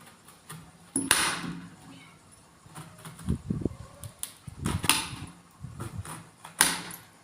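A knife slicing through a ripe star fruit picked from a terrace garden gives several sharp cuts and thunks against a board, spread irregularly and heard up close with no talking.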